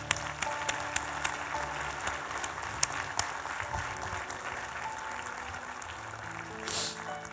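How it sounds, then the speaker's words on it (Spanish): Church congregation applauding in a gymnasium worship space after a closing prayer, a steady wash of clapping throughout with a few sharper claps standing out, moderately distant and fairly faint. "¿Por qué no le damos un fuerte aplauso al Señor?"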